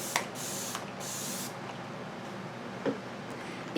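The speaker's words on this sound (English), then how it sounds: "I'm gonna spray my face with the L'Oreal Lumi Shake and Glow Dew Mist." L'Oreal Lumi Shake and Glow Dew Mist sprays onto a face in a few short, soft hissing bursts, close and fairly quiet over a faint room hush.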